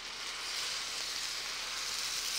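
Wine hitting a hot pan of eggplant stuffing, giving a steady, bright sizzle that holds evenly at close range with no voices.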